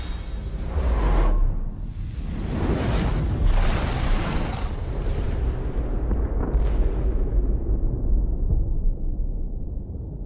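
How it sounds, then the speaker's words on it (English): A loud, rumbling in-game explosion in Divinity Original Sin 2 fills the scene, with repeated booming bursts and a sustained roar that slowly decays, without talk. "That was quite the explosion."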